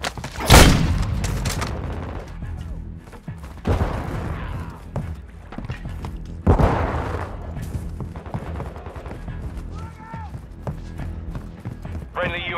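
Gunfire and three sharp explosions in the military shooter Call of Duty: Modern Warfare II, each blast loud and decaying, spaced a few seconds apart, with background shots and radio-style voices in between.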